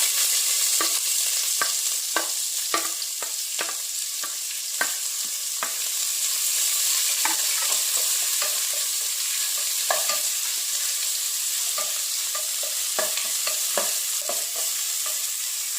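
Chopped onions frying in ghee for ghee rice, with a steady bright sizzle under frequent sharp spatula scrapes and taps against the pan, close and continuous with no voices.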